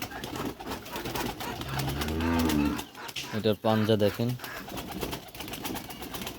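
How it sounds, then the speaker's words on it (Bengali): A high-flying Pakistani pigeon coos in low, soft tones close by while someone talks over it throughout. "একটি হাই ফ্লাইয়ের কবুতর"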